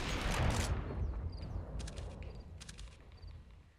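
Gunfire in the Counter-Strike: Global Offensive video game, a loud burst of broadband shots at the start fading into a few fainter sharp cracks and clicks over low rumbling background.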